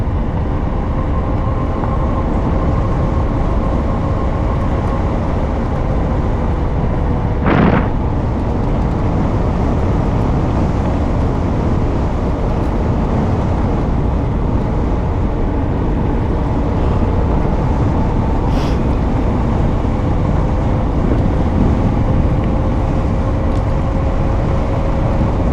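Riding a Honda E-VO electric motorcycle at speed, steady loud wind rush and road roar fill the whole stretch with a faint whine running underneath and two brief sharp transients.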